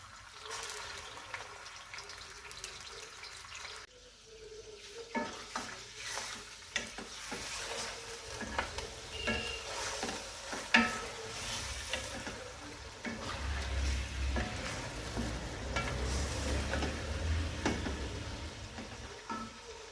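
Chicken fries with garlic in a karahi pan for Peshawari street-style Charsi chicken karahi, a steady close sizzle with frequent stirring scrapes and clatters that builds louder over time.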